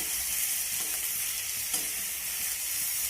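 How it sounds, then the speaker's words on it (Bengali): Chicken curry masala with softened tomato sautéing in a pan, a continuous bright sizzle with faint stirring scrapes, close and even throughout with no talk. "আর এবার নেড়ে চেড়ে আমি ভালো করে আরেকটু কষিয়ে নেব"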